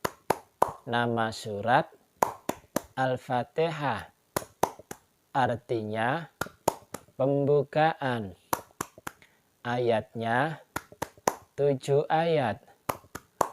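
A male teacher leads a rhythmic hand-clapping chant for children, the tepuk Al-Fatihah. Sharp, crisp claps fall in quick patterned bursts between and among his sung phrases.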